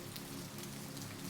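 Steady rain falls continuously, a dense, even hiss of drops striking a surface at moderate level, with no voices or other sounds above it.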